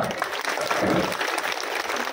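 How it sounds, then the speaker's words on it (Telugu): A crowd at a Telangana political gathering claps for Revanth Reddy. The dense, steady applause runs throughout, with voices mixed in. "రేవంత్ రెడ్డి గారికి గట్టిగా చప్పట్లు కొట్టారా?"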